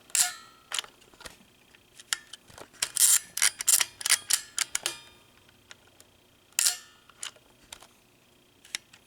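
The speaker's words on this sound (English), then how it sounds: "Now I'm going to show you all of the shutter speeds." A Kodak Signet 80 rangefinder camera's shutter fires again and again, each release a crisp, close mechanical click, with short bursts and a cluster of rapid clicks in the middle, alone with no talk.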